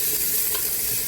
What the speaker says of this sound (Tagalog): ilagay ang ating onion at ating haluin